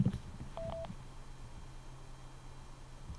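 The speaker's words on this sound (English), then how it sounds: "to select what you want to do, you're just going to press the phone button once" Sena 60S motorcycle headset gives a short electronic tone when the phone button is pressed once: a brief steady beep, faint and close, over low hum.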